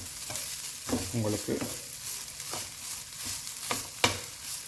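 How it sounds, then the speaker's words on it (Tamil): Vegetable fried rice is stirred and tossed in a hot pan, with a handful of distinct scraping and clattering strokes over a soft background sizzle. A single spoken word is heard briefly. "அதையும் மிக்ஸ் பண்ணால் ஒரு தரமான வெஜிடபிள் ஃப்ரைட் ரைஸ்"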